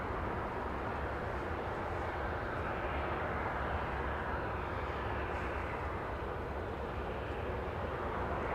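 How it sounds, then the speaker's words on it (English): A Southwest Airlines Boeing 737 departs Los Angeles International Airport bound for Las Vegas, its steady, distant-sounding jet roar holding a constant broadband rumble throughout with no voices. "We go for Southwest Airlines, a 737 flying to Las Vegas, Nevada."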